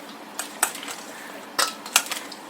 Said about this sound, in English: And then I'm just going to mix it all together.